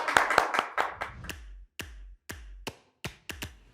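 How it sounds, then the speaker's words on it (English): A small group of contestants and hosts clapping on a kids' quiz show semi-final, starting as a dense burst and thinning into a few separate, sharp, close claps with gaps between them. "give yourselves a round of applause"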